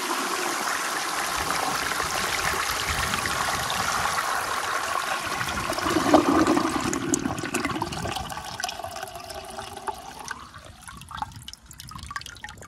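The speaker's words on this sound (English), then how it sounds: "I'm gonna honestly get it a close-up flush because I gotta get the water" A 1920 Standard ejecto toilet flushes up close with a loud, steady rush of water that swells around six seconds, then thins into trickling, dripping refill over the final few seconds.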